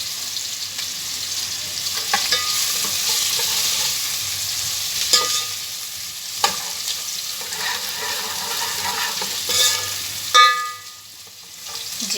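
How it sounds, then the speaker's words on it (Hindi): Garlic ginger paste sizzles steadily in hot oil while being stirred, a continuous close frying hiss broken by occasional scrapes and clinks of the spoon, in an aloo keema recipe. "शामिल करेंगे लहसुन अदरक का पेस्ट। आधा मिनट इसको जो है फ्राई करेंगे"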